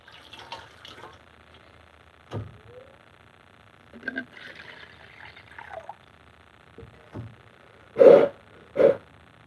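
Water pours from a handmade glazed ceramic teapot in a brief, uneven trickle, with faint voices, scattered clunks and two louder knocks near the end.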